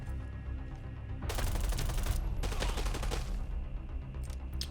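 Gunfire in the shooter game Arena Breakout. Two loud, sustained bursts of rapid automatic fire are separated by a brief pause, followed by a few scattered single shots over a low background hum.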